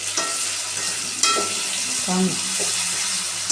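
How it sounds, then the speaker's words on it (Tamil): Bitter gourd roasting in sesame oil: a steady, close frying sizzle with a few stirring scrapes of a spoon in the pan, and a brief voice. "இந்த பாகக்காய் வந்து நல்லா எண்ணெயில் ரோஸ்ட் ஸ்டார்ட் ஆகிடுச்சு"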